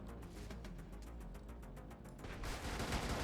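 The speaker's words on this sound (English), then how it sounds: "What if I shoot that place with the big gun first" A big gun fires in the mech combat game Brigador, a rapid string of faint, regular blasts that builds into a louder, denser rumble toward the end.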